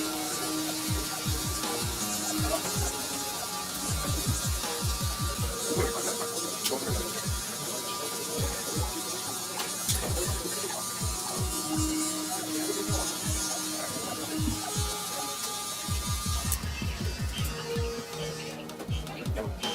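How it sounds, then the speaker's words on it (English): Cordless Magic Clip hair clippers fitted with a number 2 guard cut against the grain of ethnic hair for a bald taper, giving a steady close electric buzz with repeated short strokes throughout and no talking. "to start we're going to use my number 2 guard, Cordless Magic Clips"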